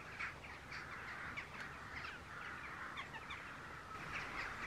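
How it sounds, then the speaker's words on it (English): Many crows gather in a yard, their dense, overlapping caws blending into a continuous faint chorus at a distance, with no talking. "And suddenly there's hundreds and hundreds of crows."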